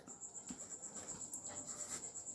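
A formula written by hand during a chemistry lecture on the reaction quotient, with soft, rhythmic pen scratches against a faint steady high whine in a quiet room.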